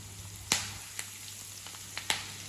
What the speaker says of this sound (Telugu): కరివేపాకు అనేది ఆయిల్లో మంచిగా వేగాలి